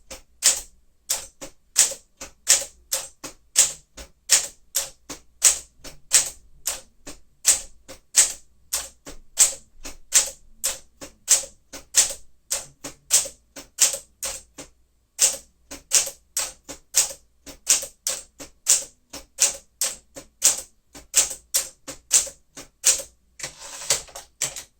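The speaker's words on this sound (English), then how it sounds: "Now we'll do the typing test so you can see the vertical alignment and all the" Keys clack in a quick, uneven run on a 1959 Sapphire Grey Smith-Corona Sterling manual typewriter during a typing test, sharp close strikes repeating for about twenty-five seconds with a brief pause midway and no voices.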